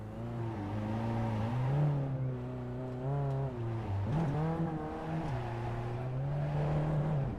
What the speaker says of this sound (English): Burkhardt gives us some celebratory donuts in the pit lane exit